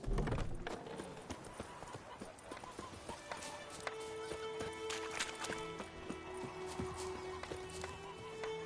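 Roach, a horse in The Witcher 3, gallops in rapid rhythmic hoofbeats, close and clear over game music with sustained tones.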